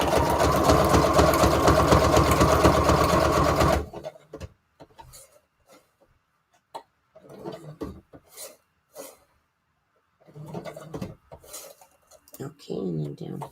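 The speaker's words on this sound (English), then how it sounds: "go back to my zigzag stitch number 4, and now I'm going to sew on this little title" A sewing machine runs a zigzag stitch while attaching a small title piece, in a steady loud whirring run for a few seconds that stops abruptly, followed by quiet handling and someone talking.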